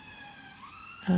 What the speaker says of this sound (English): Sorry about the sirens outside.